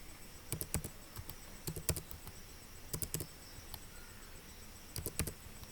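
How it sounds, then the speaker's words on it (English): Quiet clicks of computer keys in small clusters, a few quick taps at a time separated by short pauses, close and fairly soft. "You just click the down button on your keyboard."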